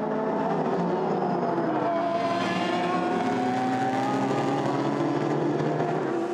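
A Corvette and the number 66 Ford race cars battle for position through the Mulsanne corner, their engines a continuous loud roar rising and falling as they pass.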